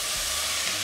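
Diced yellow bell pepper sizzles steadily in a hot pan, a close, even hiss of frying that runs unbroken for under a second with no voices.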